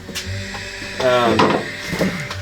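An old Matco 1/4 inch ratchet working the valve cover bolts on a 116 Thunderstroke big bore engine build, a brief close clicking run mixed with someone talking.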